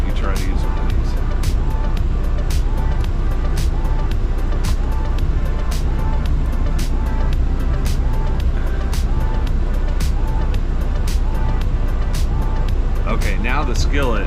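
A semi truck's engine runs in a parked cab with a continuous loud low rumble, while regular sharp ticking clicks repeat throughout and a brief voice-like sound rises near the end.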